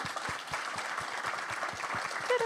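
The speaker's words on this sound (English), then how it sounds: "round of applause" A leadership breakfast audience applauds, a steady patter of many hands clapping, soft and somewhat distant, over a couple of seconds.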